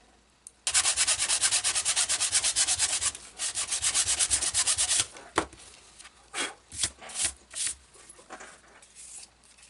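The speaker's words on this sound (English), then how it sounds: "So that's sanded with 120 grit" Sanding a 3D-printed RC boat hull with 120-grit sandpaper, a close, loud rapid back-and-forth rasp for several seconds, then a pause and a few slower separate strokes.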